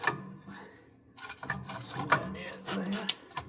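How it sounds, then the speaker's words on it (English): A clutch for a Little Grey Fergie tractor is worked onto its pins, giving close, irregular metallic clunks, knocks and scraping handling sounds in bursts over a few seconds. "I'm just going to try and stick this clutch on, see if I can do it in one take, get it on the pins"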